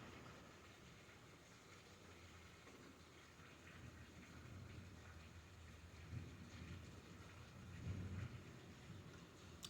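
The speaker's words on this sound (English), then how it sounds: "And so it's raining today." Steady rain falls onto a downspout, a faint, even patter with soft swells and no voices.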